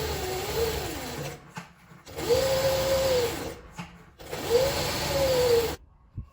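A sewing machine stitches right along a fabric edge in three short bursts, each a second or so long and separated by brief pauses, with a whirring motor and a faint rising-and-falling whine.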